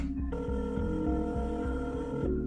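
Telephone ringing after a number is dialed, a steady repeating electronic ring tone with regular pulses holding close and clear throughout, with no talk over it.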